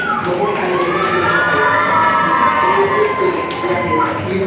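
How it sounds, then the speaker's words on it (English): Audience at a yoga event's cultural program applauds and cheers for a performing team, a dense, steady wash of clapping and shouts filling the whole stretch at close, loud level. "A huge round of applause for Shravan and team."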